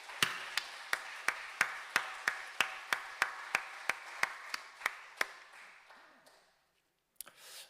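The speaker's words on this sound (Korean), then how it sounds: "다시 한번 우리 박수하도록 하겠습니다" A church congregation claps in steady unison for a choir, sharp even beats about three per second for several seconds, then fading and stopping, with one stray clap near the end.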